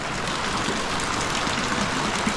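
Heavy rain pouring on a hut, a dense, steady hiss of water with a low rumble underneath, continuous and loud for the whole stretch.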